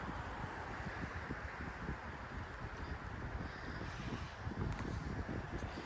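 Steady wind gusting across an open London street, buffeting the microphone with a low, continuous rumble and rustle that swells slightly toward the end, with no talking.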